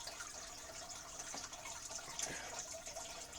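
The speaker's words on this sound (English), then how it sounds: "I'm gonna fill that tank up entirely" Water runs steadily into a home fish tank, a faint continuous hiss and trickle with a couple of small splashes, no voices.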